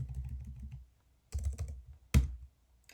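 Short bursts of computer keyboard typing while a router configuration command is entered, crisp close clicks in three quick clusters separated by pauses, quiet and with no voice.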